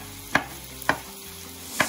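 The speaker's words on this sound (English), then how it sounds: "And I'm gonna chop these." A kitchen knife chops wild mushrooms on a cutting board in three separate sharp thuds at an uneven pace, close and distinct over a quiet room tone.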